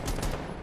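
Rapid rifle shots in a tense Rainbow Six Siege round, firing through a wall for headshots, a brief burst of a few close, loud cracks.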